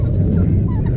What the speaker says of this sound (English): we got a turkey out today